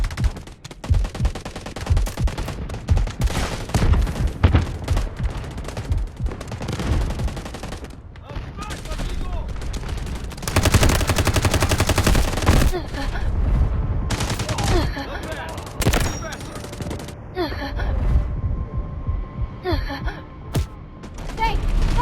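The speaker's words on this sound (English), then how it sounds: "Artillery barrage incoming." Artillery barrage and rapid gunfire in the video game Delta Force Mobile, dense bursts of shots and booms in irregular clusters, loud and close, with voices heard between the volleys.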